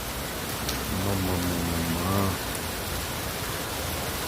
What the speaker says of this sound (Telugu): చాలా డేంజరస్గా వర్షం పడుతుంది.